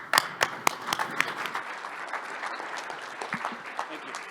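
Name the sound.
audience applause welcoming speakers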